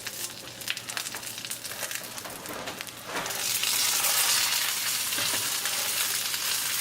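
A breaded pork loin chop with tandoori masala frying in a pan, crackling and spattering, then a louder, fuller sizzle bursting up as it is turned over, close and steady without talk.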